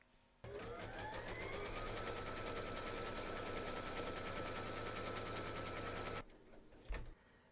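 An embroidery machine stitches a placement outline on fabric in the hoop for an in-the-hoop teddy and unicorn bag, running as a fast, steady, loud rattle for about six seconds before stopping with a few clicks.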